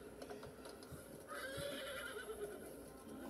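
A horse in the Roblox game gives a faint, drawn-out whinny midway, with soft clip-clop hoof taps and light ticking around it and no speech.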